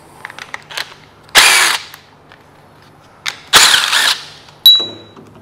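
A ratchet and socket work loose bolts on a Kia/Hyundai V6 engine during head removal: a few short, close bursts of rapid metallic clicking separated by pauses and scattered small knocks.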